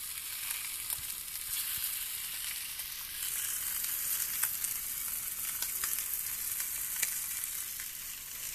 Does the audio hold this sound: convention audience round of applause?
no